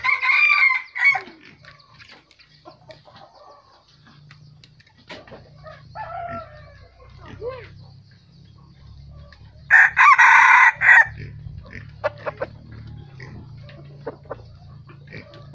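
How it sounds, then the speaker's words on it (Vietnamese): A decoy rooster, a tall, long-bodied bird with a white spur and red eyes, crows loudly twice, once near the start and again at the middle, with clucking between. Low farmyard noise continues throughout, and no one speaks. "Gà rất hiền nhá."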